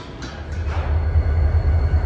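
CSX GP40-2 switcher locomotives work West Springfield Yard with a loud, steady low diesel rumble and some rail noise, heard close and continuous without talk.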